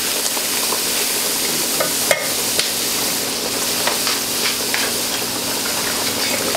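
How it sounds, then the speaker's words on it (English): A roux for New Orleans gumbo being stirred fast in a pot, giving a steady scraping, bubbling sizzle with a few sharper clicks of the spoon, close and continuous. "You have to stir it real fast because it's going to go real fast."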